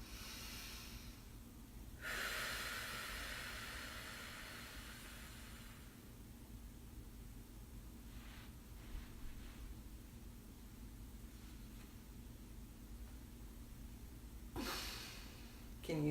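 Slow, deep breaths during a yoga session, with a long audible inhale or exhale near the start and another at the end, soft and close over faint background hiss.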